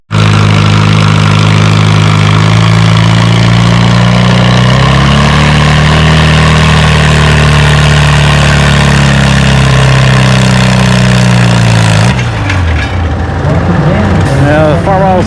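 Ford Jubilee tractor engine running under load at a tractor pull, a loud, steady low drone held close for most of the stretch before easing off, with voices talking over it.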